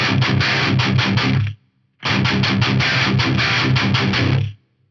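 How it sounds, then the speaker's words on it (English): A heavily distorted electric guitar played through an Axe-Fx with its classic expander noise gate hammers out two loud bursts of rapid palm-muted chugs, each cut off abruptly into near silence. "let's hear the the classic expander and then the modern expander."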